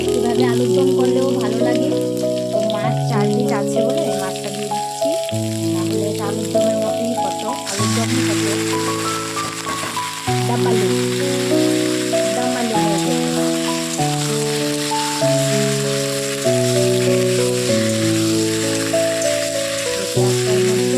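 New potatoes fry with onions in a pan while cooking Bengali-style rohu fish curry, giving a steady, bright sizzle that runs throughout under prominent melodic background music.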